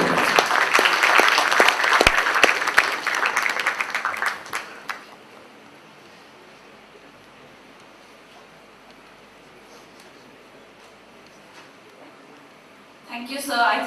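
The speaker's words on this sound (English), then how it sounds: "deserves another big round of applause" Audience applause after a speech at the Taj, loud sustained clapping that fades out after about five seconds, leaving quiet room tone before a brief rise at the end.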